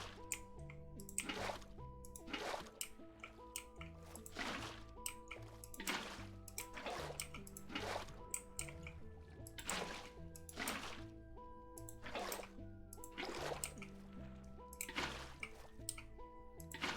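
Water placed and flowing in Minecraft Bedrock gives a run of repeated watery splashing and dripping bursts, evenly spaced, under steady background music.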